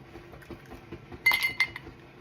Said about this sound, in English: I'm gonna put in 4 cubes.